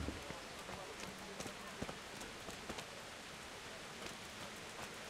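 Steady rain falls in the medieval world of Kingdom Come: Deliverance, a constant soft hiss with scattered heavier drop taps at moderate, even loudness, and no talk over it.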